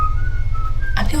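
A thin, steady whistle holds one pitch for most of a second over low background hum, then cuts off into a brief noisy rustle, heard in an eerie night-time setting.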